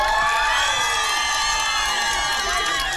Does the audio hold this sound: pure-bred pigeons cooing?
no